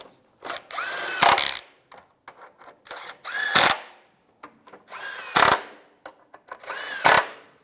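A power tool drives bolts on the engine mount shield of a 2002-2009 Chevrolet Trailblazer in four loud whirring bursts, each rising in pitch, separated by short pauses and light metallic handling, close up and without speech.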